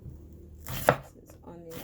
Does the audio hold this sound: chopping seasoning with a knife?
yes